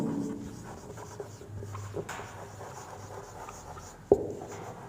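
A pen scratches out a math statement by hand on paper in short, close strokes over a low room hum, with one sharper tap near the end.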